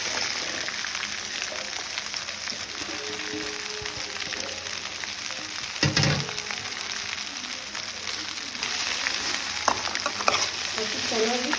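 Chopped okra frying in about two spoons of hot oil, a dense continuous sizzle like rain on a surface, with occasional stirring scrapes and a louder clatter midway, close and steady, no talking.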